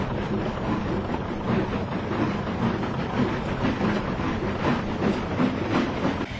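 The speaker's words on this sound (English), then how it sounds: "A moment later, the line was clear, and Olivia departed." A train engine pulls away along a railway line with a continuous rolling rumble and faint rhythmic wheel clatter, steady and moderately loud.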